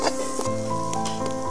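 Chicken and bamboo shoot curry being stirred in a sizzling pan, a constant frying hiss broken by scraping strokes of a spoon, with steady tonal hum from the kitchen underneath and no speech.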